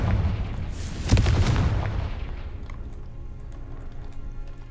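Confringo blasting spell in a wizarding video game, a heavy boom at about one second followed by a rolling low rumble and debris crackle that slowly fades, with no voices.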